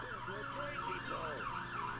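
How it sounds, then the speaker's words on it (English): Emergency sirens wail in the distance, rising and falling in repeated sweeping tones over a low background hum. "Sorry about the sirens, by the way."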